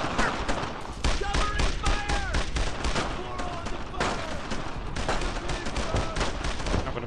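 Suppressing gunfire in Brothers in Arms crackles in dense, loud bursts of rifle and machine-gun shots, overlapping rapidly with short gaps, while voices shout over the battle.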